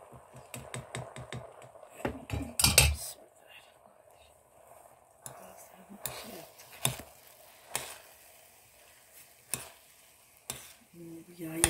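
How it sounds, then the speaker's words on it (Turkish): Tomato paste fries in a pan for kısır while a spoon stirs and scrapes, producing soft sizzling under a string of clacks and scraping taps, with quiet voices murmuring nearby. "Karıştır baştan salçayı."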